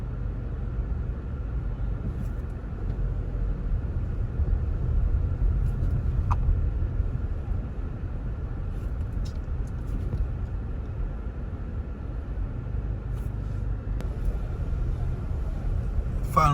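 Street traffic in Montego Bay where taxis are loading, a steady low rumble of passing vehicles and idling engines with a few faint high clicks, heard close at street level.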